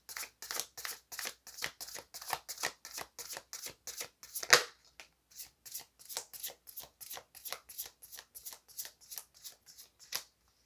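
Tarot cards are shuffled by hand in a quiet room, a long run of rapid, regular close riffling bursts with brief pauses, no talk over them.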